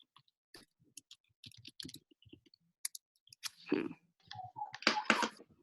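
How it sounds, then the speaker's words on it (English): Sparse, irregular clicks of keys being pressed close by, with scattered short bursts of tapping and some faint vocal sounds near the end. "if you hear me typing, I'm just doing some work."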